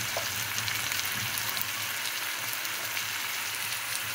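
Brinjal curry with chili powder, coriander powder, turmeric and cumin powder frying in a pan, a steady soft sizzle and crackle throughout, faint and even with no talking.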